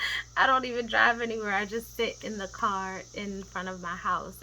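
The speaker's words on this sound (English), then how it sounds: "we have cicadas, and they provide like this constant white noise in the background" Cicadas buzz outside a house in a quiet neighborhood, making a faint, steady high drone like white noise. A person talks close by over the buzzing.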